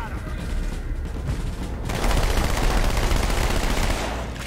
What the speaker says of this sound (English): Let's use this turret.